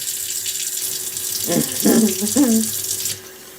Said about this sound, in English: Don't mind me drinking spigot water.